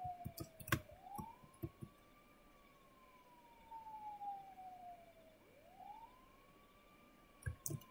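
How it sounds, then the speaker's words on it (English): A wailing police siren from a horror video game rises and falls in two long sweeps. It sounds at a moderate distance over a low ambient rumble, with a few sharp clicks at the start and near the end. "No, that's the police car."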